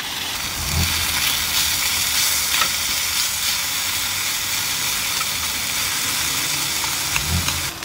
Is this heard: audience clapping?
no